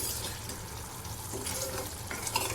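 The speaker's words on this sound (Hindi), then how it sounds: "ये देखिए, हम इसको अच्छे से चला रहे हैं और ये देखिए हमारा ये चारों तरफ घी, ये जो बबल्स उठ रहे हैं" Masala frying in ghee while being stirred, a steady close-up sizzle with scraping stir strokes and small bursts of bubbling, continuous and fairly loud, no talk.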